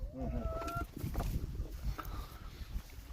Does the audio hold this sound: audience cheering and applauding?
no